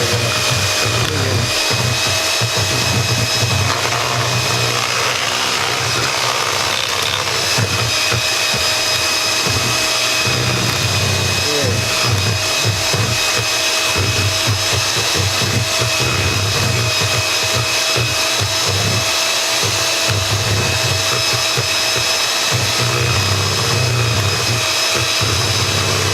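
An electric hand mixer whirs continuously through taco dip, a loud, steady motor drone with slight shifts in pitch and texture as it churns, close by and without talk.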